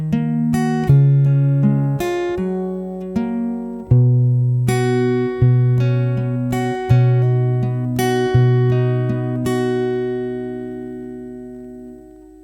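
Guitar playing four bars of an interlude: clear plucked single notes ring out across the strings in a steady picking pattern, each note sustaining and overlapping the next, with no voice over it.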